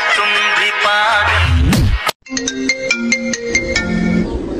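An incoming call sets off a mobile phone ringtone: a loud, bright melodic tune that breaks off briefly, then resumes as a run of rhythmic electronic notes close by, with no talking.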